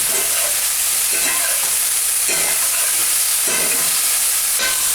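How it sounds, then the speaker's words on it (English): Beef steak stir-frying in a pan for noodles with broccoli, a loud, close, constant sizzle broken by a few rhythmic bursts as the meat is flipped and stirred, with no voices. "Kind of flip and stir."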